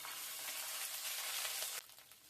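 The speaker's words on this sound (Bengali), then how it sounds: "এবারে ফোড়নটাকে আমি ভালো মতো ভেজে নিব।" Spices sizzling in hot oil for tempering while cooking a vegetable curry, a steady loud crackling hiss close up that drops off sharply near the end.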